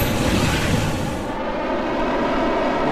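Steady broadband whir of a helicopter's spinning rotors in Kerbal Space Program, loud and continuous throughout with no change in rhythm.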